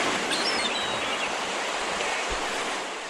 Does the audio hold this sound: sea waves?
yes